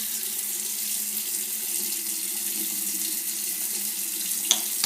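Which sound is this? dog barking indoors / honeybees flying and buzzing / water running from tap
water running from tap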